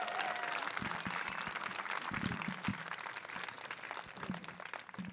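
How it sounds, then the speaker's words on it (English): An audience at a band awards concert applauds with steady, moderately faint clapping that carries on throughout, with a few louder claps standing out. "So can I get a big round of applause for this amazing group of singers?"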